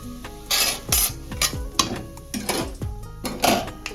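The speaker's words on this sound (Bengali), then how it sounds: "তেলটা গরম হয়ে গেছে। তো এবারে 5 ফোঁটনটা দিয়ে দিচ্ছি।" Panch phoron, five whole spices, hitting hot oil in a pan, with repeated metallic clanks and scrapes of a utensil against the pan over a faint sizzle, loud and close.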